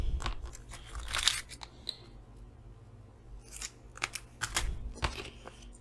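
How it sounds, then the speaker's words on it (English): Scissors trimming excess brown packing tape from an image transfer, several crisp close-up snips and crunchy cuts scattered over a few seconds against a quiet background. "Just gonna trim off the excess here."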